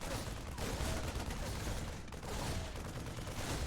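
A lone Marine in StarCraft II fires rapid continuous bursts at a cannon, a dense crackling rattle of gunfire filling the whole stretch.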